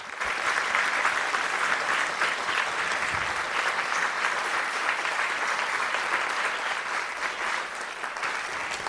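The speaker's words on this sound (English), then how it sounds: "I'd like you to be able to give a round of applause and celebrate the students who are following us online." Graduates at a hybrid EDHEC graduation ceremony applaud, a dense, steady roar of many hands clapping at once that holds loud and unbroken throughout, with no talk over it.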